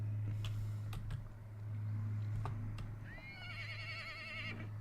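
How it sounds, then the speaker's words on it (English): A horse whinnies in the Vintage Story video game, a wavering neigh rising over a steady low hum and scattered clicks, heard at moderate distance with no talk. "where the fuck did that horse come from?"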